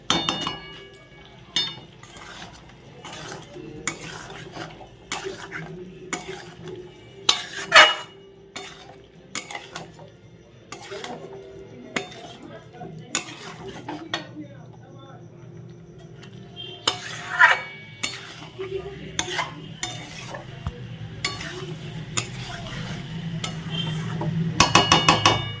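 Potatoes for a vegetarian aloo dum being stirred and fried in a pan with turmeric, spatula scraping and clinking against metal in irregular bursts over a low background sizzle, close by.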